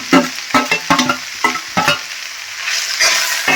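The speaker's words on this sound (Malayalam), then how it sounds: "വലിയ നാല് കഷ്ണം ഉള്ളി ചെറുതായി സവാള നമ്മുടെ നല്ല രീതിയിൽ ചെറുതായിട്ട് അരിഞ്ഞത് അതും കൂടി ഇതിലേക്ക് ചേർക്കുവാണ്" Finely chopped onions sizzling and being stirred in a frying pan for a village-style mushroom dish, close and loud with repeated scraping strokes over a steady sizzle.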